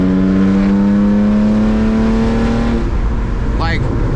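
A muffler-deleted BMW E36 328i with a manual gearbox roars loud and close, its exhaust drone climbing steadily in pitch as it revs, then breaking off abruptly near the end with a short rising chirp.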